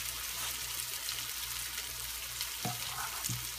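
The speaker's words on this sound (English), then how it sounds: "And it's boiling water that you add." Boiling water poured onto corn meal for corn dodgers gives off a steady close hiss and sizzle over a low hum, with two brief louder bursts near the end.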